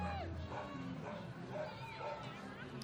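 Costumed dogs at a Christmas Santa Claus parade in Moncton, New Brunswick: several yips and whimpering barks rise over crowd murmur and nearby voices.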